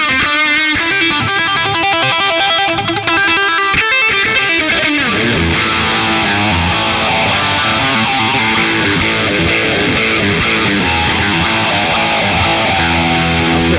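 Distorted electric guitar played through a Boss Katana 100 amp on its record setting with a phaser engaged, loud and sustained, opening with choppy strummed chords and then sweeping, swirling held notes.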